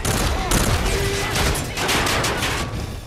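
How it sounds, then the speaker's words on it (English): Sustained Call of Duty: Infinite Warfare gunfire, a dense loud fusillade of rapid shots filling the scene with continuous crackling bursts. "Wait, who is shooting me?"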